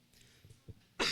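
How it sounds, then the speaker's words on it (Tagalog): A single short cough breaks out at the end, loud and close, after a few faint soft noises in a quiet church sermon setting. "May ubo na ba lahat?"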